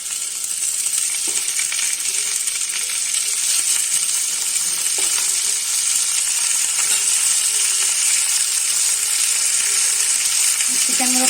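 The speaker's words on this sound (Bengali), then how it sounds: "চিকেনগুলোকে পেঁয়াজের সঙ্গে একটু ভালো করে ভেজে নিতে হবে।" Chicken pieces sizzling in hot oil with onions that have been fried red, a loud, constant hiss filling the clip, with faint stirring clinks now and then.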